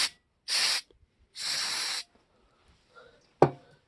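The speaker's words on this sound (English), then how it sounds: "First of all, we'll take a bit of brake clean." Brake cleaner sprayed onto a fouled spark plug in two separate bursts, each about a third of a second to half a second long, hissing loudly and close up, with a sharp click following near the end.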